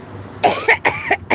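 A woman coughs in several short, sharp bursts, four or five harsh hacks in quick succession at close range, with no talking between them.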